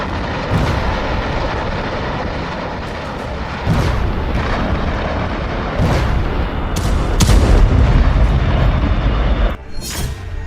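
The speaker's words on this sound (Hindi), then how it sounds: "आईआरजीसी के हेडक्वार्टर में जोरदार धमाके हुए।" A loud, continuous roar of blasts and rumbling booms from Israeli bombing of an IRGC headquarters in Iran, several sharp cracks standing out, heavy and sustained throughout.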